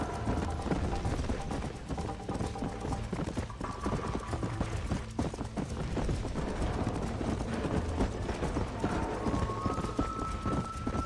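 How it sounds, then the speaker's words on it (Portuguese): Horse hooves galloping in the GTA video game, a steady fast clip-clop rhythm running throughout at full level under game music and effects. "Corrida de a cavalo."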